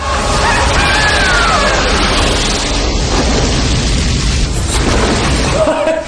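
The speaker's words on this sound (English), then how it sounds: "What's up with all the explosions?" Explosions in an action film scene, a dense continuous rumble of booms and crashing debris, loud and sustained throughout with no clear gaps.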